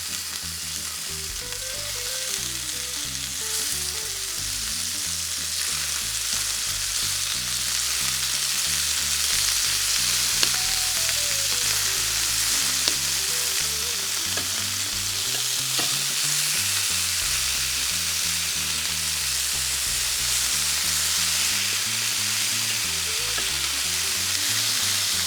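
Steak bites sear in a hot pan, producing a loud, steady, close sizzle and crackle that holds for the whole stretch, with faint clinks underneath.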